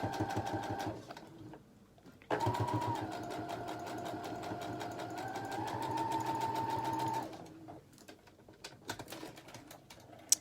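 A sewing machine stitches a fabric face mask, running in a steady rapid whir for several seconds, pausing briefly, then stitching on in a long continuous run, close and clear with no talking.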